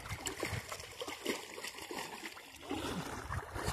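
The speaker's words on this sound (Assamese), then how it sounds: "এয়া হল পুঠিমাৰী নদী" The Puthimari river near a village flows with a soft, continuous rush of water and scattered splashing and gurgling, heard fairly close and quiet.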